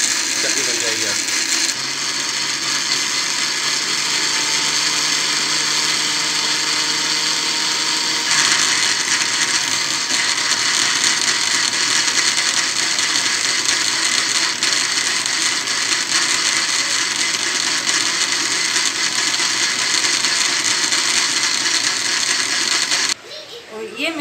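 A kitchen mixer grinder blends spinach chutney in a loud, steady whirring drone that runs close and unbroken for over twenty seconds before cutting off abruptly near the end.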